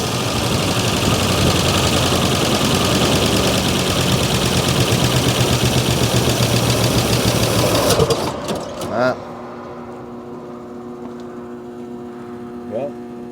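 A 1957 Oldsmobile Rocket engine, abandoned for decades and just restarted, idles loud and close with a steady, slightly rough churning drone, then shuts off abruptly, leaving a quiet low hum and faint clicks.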